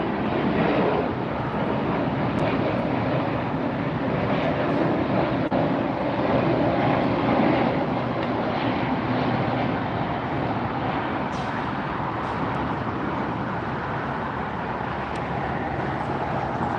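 A jumbo cargo plane takes off at LAX airport, its jet engines roaring steadily and loudly for the whole stretch as a continuous broadband rumble with no voices.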